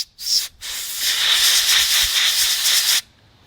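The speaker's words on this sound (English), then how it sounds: "You just want to use compressed air." Compressed air blasts through the propane jet orifice of a Dometic RV refrigerator, giving a loud, steady hiss that lasts about two and a half seconds after a brief opening puff and then cuts off sharply.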